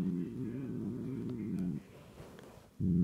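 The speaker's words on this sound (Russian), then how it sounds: "Сама она очень милая кошка." A house cat purring loudly and close, a rhythmic rumble that pauses briefly before resuming.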